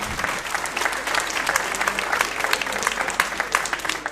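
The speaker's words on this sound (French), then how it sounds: "Ok, bon, on peut l'applaudir" Audience applause at the closing ceremony of a gaming event, a dense, steady wash of many hands clapping that fills the whole stretch at close range, with no voices over it.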